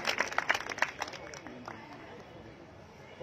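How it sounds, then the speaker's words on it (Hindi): An audience at a Shri Krishna Pranami temple foundation festival in Jaipur claps for a devotional performance in a brief burst of applause that fades after about a second into quieter room murmur. "जोरदार तालियां हो जाए इनके लिए"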